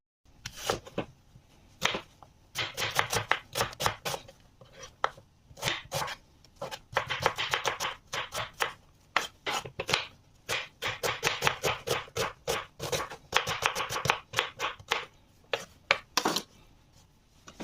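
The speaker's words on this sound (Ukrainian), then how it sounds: "поріжу цибульку" Onion being chopped with a knife on a board in a home kitchen, a close, loud run of rapid rhythmic knife strikes in bursts with short pauses between them.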